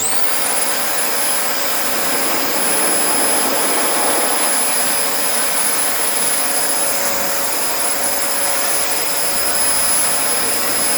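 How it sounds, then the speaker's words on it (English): A vacuum cleaner motor runs loud and steady throughout, with a high whining tone over a constant rushing roar. "Let's see if the vacuum cleaner can still make it fly."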